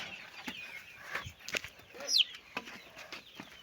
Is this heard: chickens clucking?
yes